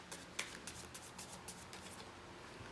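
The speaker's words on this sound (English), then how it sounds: "one more shuffle, then we'll take from the middle" Oracle cards from a Froud Faerie deck being shuffled by hand, a quiet run of soft papery riffles and flicks with a few sharper snaps early on, close and low in level with no talk.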